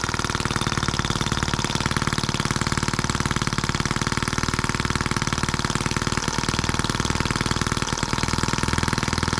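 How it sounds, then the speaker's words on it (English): A scale model Atkinson engine, the M14, runs steadily after a hand start, giving a loud, fast, even chugging beat that stays close and continuous throughout, with no voices. "Might be wishful thinking, but what if we can start it by hand?"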